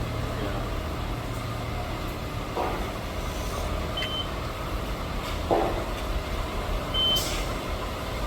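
A HAAS CNC machine gives short electronic beeps when its setup finishes, two brief tones sounding over a steady machine-shop hum.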